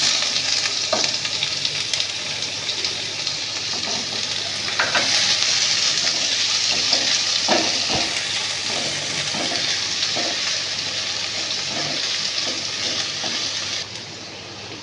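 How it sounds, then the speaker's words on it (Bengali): Chopped onion and cumin seeds frying in hot oil in a pan: a dense, steady sizzle throughout with occasional stirring scrapes and clinks, close and loud, quieting slightly at the end. "তেলটা গরম হয়ে গেছে, এর মধ্যে আমি একটু জিরে ফোড়ন দিয়ে দিচ্ছি। কুচনো পেঁয়াজটা প্রথমে দিয়ে দিলাম।"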